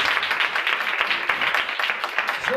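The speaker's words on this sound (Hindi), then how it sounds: "आज की सारी ब्लेसिंग के लिए जोरदार तालियां" A church congregation bursts into loud, dense applause. Rapid overlapping claps form a steady, close wash of sound.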